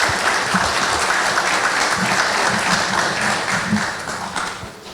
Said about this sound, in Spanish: a quien tributamos un fuerte aplauso